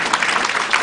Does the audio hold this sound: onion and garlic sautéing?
no